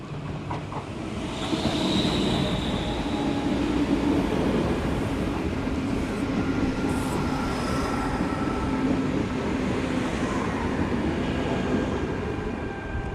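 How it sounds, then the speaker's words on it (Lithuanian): A passenger train bound for Oslo rolls past with a steady rumble and rhythmic clatter of wheels on the rails, faint squeals rising over the noise. "Štai traukinys į Oslą."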